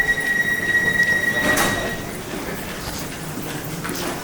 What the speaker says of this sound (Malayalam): ഇതാണ് ഞാൻ വന്ന ട്രെയിൻ